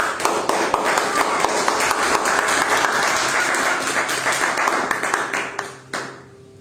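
A church congregation claps together during a Spanish-language evangelical teaching service, a dense, continuous round of applause that carries on for several seconds before tapering off abruptly at the end.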